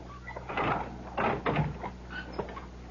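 A door is opened and closed in an old radio mystery drama, a few knocking, latching clunks and rattles in quick succession, close and fairly loud, with no talk over them.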